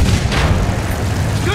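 Heavy booming artillery and gunfire from a Battlefield 1 World War I battle, a deep rumbling blast with continuous low-end roar, loud and close.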